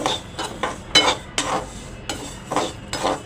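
Whole urad dal is stirred as it roasts in a pan, with a spoon scraping and clinking against the metal in irregular strokes, close by and moderately loud, with no voices.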